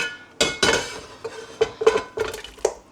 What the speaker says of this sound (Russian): И теперь содержимое сковородки я отправляю в кастрюлю.